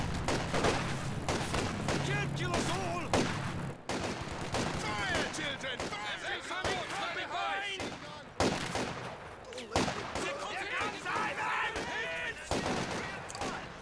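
A Soviet Su-76 self-propelled gun firing in barrage mode during a strategy game match, Soviets against Wehrmacht, with dense, continuous gunfire and booming shots throughout while a voice talks over the battle.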